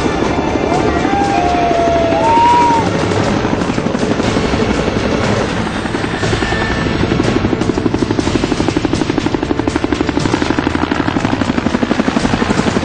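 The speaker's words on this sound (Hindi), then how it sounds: "10 मिनट में 2 हेलीकॉप्टर लोटस बिजनेस पार्क की हाई राइज बिल्डिंग के ऊपर मंडराने लगे" Two navy rescue helicopters hover over a burning high-rise at Lotus Business Park in Andheri, Mumbai, their loud rotor chop and engine whine droning steadily and close throughout.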